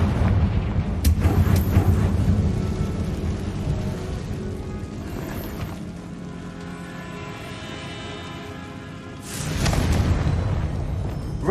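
A Confringo fire spell bursts in the game Hogwarts Legacy with a sharp crack followed by a roaring, rumbling blast, a later second burst rising near the end over low ambient rumble.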